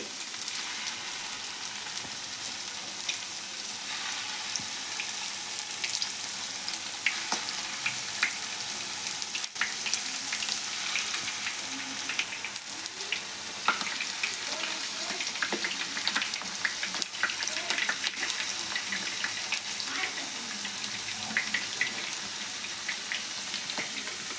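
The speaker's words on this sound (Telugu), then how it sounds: "ఈ కైమా ఉండల్ని అయితే లో టు మీడియం ఫ్లేమ్లో పెట్టుకొని అయితేనే మనం మగ్గించుకోవాలి" Chicken keema balls fry in a pan over a low-to-medium flame until golden brown. A steady, even sizzle with scattered crackles and pops carries on throughout.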